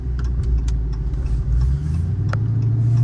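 Dodge Charger SRT Hellcat Redeye with a stock supercharged engine cruising, a close, steady low rumble that swells slightly toward the end, with faint clicks over it and no talk.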